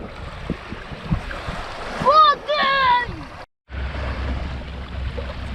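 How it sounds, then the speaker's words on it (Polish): Breezy outdoor wash of wind and gentle small sea waves on the coast of Sardinia, Italy, in March, interrupted by a loud tonal whistle-like voice sound midway, then a brief silence before the surf resumes. "Teraz trochę wiatr zaczął wiać, i fala, ale tu i tak jest mała fala."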